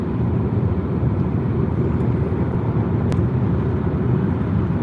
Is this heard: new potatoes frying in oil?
no